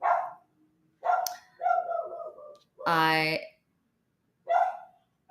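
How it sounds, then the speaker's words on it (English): A neighbor's dog gives a single short bark between stretches of close speech from a person talking. "that's my neighbor's dog barking"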